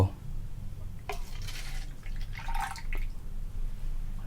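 Orange juice pours into black coffee in a cup at close range, a short liquid splash and trickle against a quiet kitchen hum, with small drips at the end.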